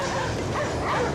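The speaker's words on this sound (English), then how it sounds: "Dogs are barking at the ship." Dogs bark at a ship in a video game, giving a short burst of yips and whimpering barks over a constant ambient background.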